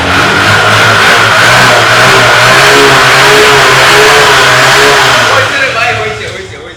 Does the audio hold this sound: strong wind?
no